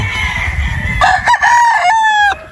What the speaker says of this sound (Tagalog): ito yung isang straight comb natin na Boston Roundhead